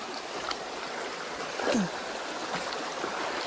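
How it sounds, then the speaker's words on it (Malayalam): A small forest stream on the Sabarimala trek near Karimala runs over rounded rocks. It makes a soft, steady trickle and gurgle, with one brief sharper sound partway through. "അടുത്ത ചെറിയൊരു അരുവി വന്നിട്ടുണ്ട്"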